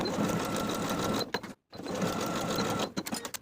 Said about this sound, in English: Sew these seams with a 3/8 inch seam allowance and press the seams open.